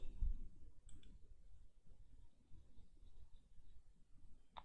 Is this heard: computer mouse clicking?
yes